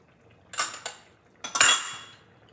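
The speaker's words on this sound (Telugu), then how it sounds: "నేను దీనిని సెంట్రల్లో మిక్స్ చేస్తున్నాను." Spoon scraping and clinking against a pot while curry is stirred, in two short bursts of metallic scrapes with a quiet pause between them.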